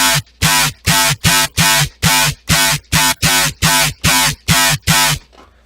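A bass preset built in the Serum synth to mimic the Rick Sanchez voice plays a series of about a dozen loud, evenly spaced, vocal-like gritty bass stabs, each cutting off sharply, with a short tail at the end.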